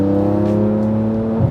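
A Porsche 991 Turbo S with 685 hp pulls hard under acceleration, its engine a loud, sustained tonal drone that climbs steadily from inside the car before easing off at the end.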